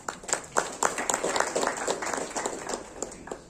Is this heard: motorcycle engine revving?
no